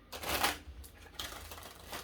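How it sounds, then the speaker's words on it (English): Tarot cards are shuffled by hand in two quick bursts of papery riffling and slapping, close and fairly quiet, with a short pause between them. "3 shuffles."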